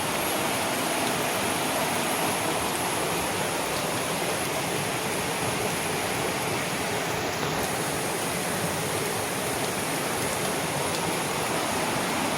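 A swollen hill stream rushes steadily after heavy rain in the hills, a loud, continuous broadband roar of flowing water close by with no pauses and no talking.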